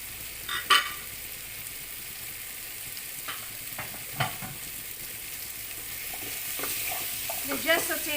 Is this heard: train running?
no